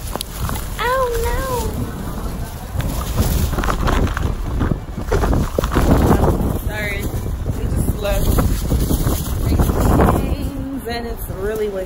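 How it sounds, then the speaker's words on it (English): Strong wind buffets the microphone in loud, continuous gusts, with voices talking underneath. "Really windy."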